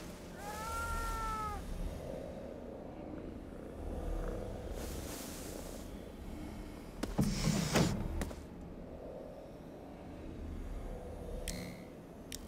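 A cat meows several times in the video game Ghostwire Tokyo, clear rising mews near the start over a steady ambient game backdrop, with a brief rattling clatter midway and no talk.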